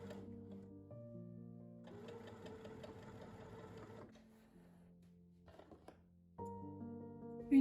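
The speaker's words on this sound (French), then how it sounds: "On peut ensuite coudre en suivant nos épingles de chaque côté avec une couture droite" A sewing machine stitches a straight seam along pinned edges of a ruffled bucket hat, running in a few steady bursts with pauses between, moderately quiet, with no talking.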